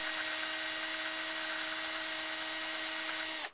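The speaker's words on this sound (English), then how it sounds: "I've put it into the drill here, and these are aluminum, so I didn't hold it too tight." An electric drill spins an aluminum knife-handle part against an abrasive to take off a burr, giving a steady high-pitched whine that holds level throughout and cuts off abruptly at the end, close and without talk.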